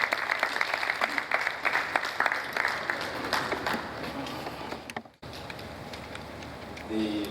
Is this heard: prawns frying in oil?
no